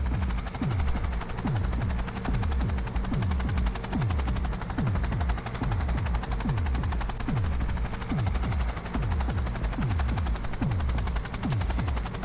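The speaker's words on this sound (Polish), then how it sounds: "mamy zaczekać, aż helikopter się zniży" A helicopter in the video game Cyberpunk 2077 hovers with a loud, steady rotor drone and rhythmic repeating sweeps. It stays up front throughout, continuous and unbroken, with a dense roar over the whole range.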